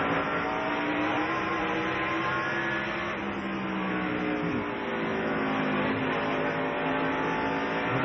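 NASCAR stock cars racing on the short track at Bristol in the 1997 Food City 500, a loud continuous engine roar from several cars sustained throughout without voices.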